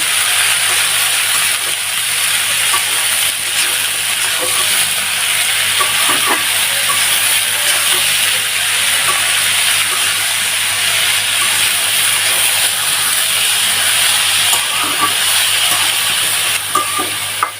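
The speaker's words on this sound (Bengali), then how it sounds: "দিয়ে আমি এখন ভাজিটাকে ভাজতে থাকবো" A vegetable bhaji with turmeric frying in a pan gives off a loud, steady hiss and sizzle, close up and unbroken, with an occasional faint scrape, and nobody speaks.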